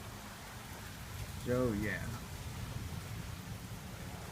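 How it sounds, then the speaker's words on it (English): Rain falls steadily during a nighttime thunderstorm, a constant broadband hiss that goes on throughout, with a brief spoken remark partway through. "the wind is blowing, the lightning is flashing, the rain is falling"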